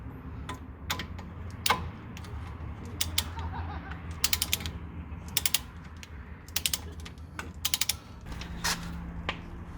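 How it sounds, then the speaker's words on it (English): A torque wrench set to 50 foot-pounds tightens a front-end bolt on an '88 Buick Electra Park Avenue, giving quiet ratcheting clicks in short bursts and ending in sharp snaps. "here is tightening up the first bolt to 50"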